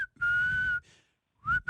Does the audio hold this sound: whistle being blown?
yes